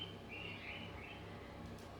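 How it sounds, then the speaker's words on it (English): Pet birds sing indoors in the background, a few thin chirping and warbling phrases over a steady low room hum. "If you can hear my birds in the background, they have decided it's the right time to sing."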